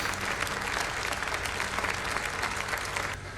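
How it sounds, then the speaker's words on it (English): Dense, continuous applause from an audience in a scene from the TV drama Better Call Saul, loud and steady throughout with no voices, tapering only slightly at the very end. "This applause is just grating."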